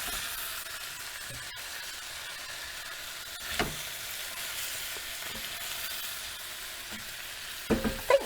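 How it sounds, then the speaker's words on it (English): Pork frying in a pan sizzles steadily with a close, soft hiss, while a spoon stirs it with occasional scraping and clinking against the pan. "I'm going to just stir to mix the pork. Stir that all through."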